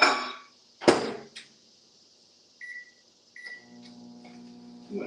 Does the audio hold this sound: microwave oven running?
yes